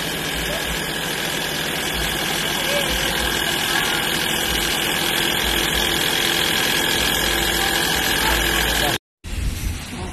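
A car engine idles steadily with its drive belt removed, a close, continuous low rumble and hum that cuts off abruptly near the end before a brief burst of noise.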